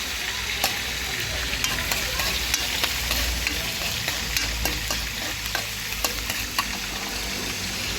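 Galunggong fish frying in a pan, a steady close sizzle with scattered sharp pops and crackles of hot oil and occasional stirring, no voices.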